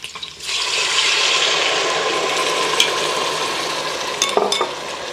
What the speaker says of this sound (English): And now I'm adding my sauce.